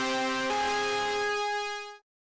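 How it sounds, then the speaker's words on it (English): A long, distorted synth pad from a sample pack, almost guitar-like, holds one bright sustained chord alone with a slight change partway through before cutting off at the end. "This is just a pad sound that I took from the sample pack"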